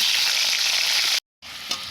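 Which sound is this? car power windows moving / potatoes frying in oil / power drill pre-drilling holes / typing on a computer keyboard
potatoes frying in oil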